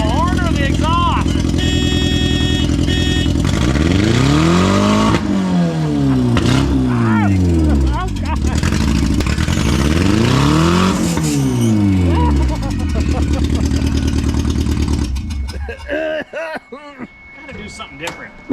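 A car with a loud, obnoxious exhaust revs hard in repeated swelling bursts that rise and fall in pitch, with clattering and other engine noise before trailing off, with people talking over it.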